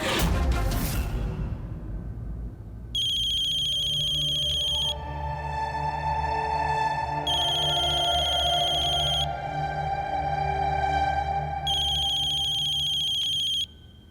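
An electronic phone ringtone plays in three repeated bursts of bright, buzzing tones, fairly close, with a low hum between rings.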